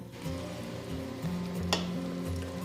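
Thick homemade hibiscus anti-aging cream being beaten well in a bowl, a steady close stirring and whisking texture with a soft scrape, running continuously with no talk.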